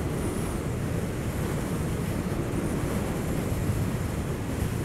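A 2021 Yamaha MT07 motorcycle rides at speed on a bumpy country road, heard as a constant loud roar of wind buffeting with engine drone beneath, steady and unbroken throughout.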